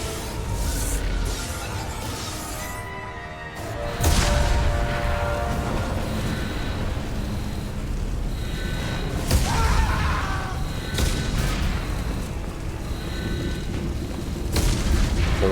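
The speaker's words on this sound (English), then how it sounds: "The Star Trek panels exploding" Starship control panels explode in the video game Mass Effect 2, with heavy booms and crackling blasts over a constant roar of noise and alarms. Louder bursts hit near the start, the middle and later on.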